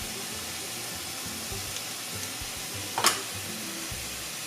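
Bacon frying in a pan gives a low, steady sizzle throughout, with a single sharp clink or scrape partway through; fairly quiet and continuous with no talking.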